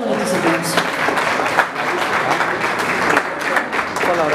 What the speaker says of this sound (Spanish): Bien bonito ese aplauso.